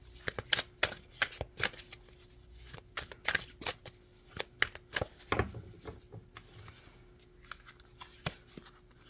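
Tarot deck being shuffled and cards drawn, a long run of close, crisp riffles, taps and flicks at an irregular pace, with no talking.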